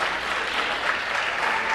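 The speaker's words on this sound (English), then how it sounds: "So if we can give everyone another one big round of applause and congratulations" Continuous applause from the audience at a school board meeting, a dense, even patter of many hands clapping at steady loudness throughout.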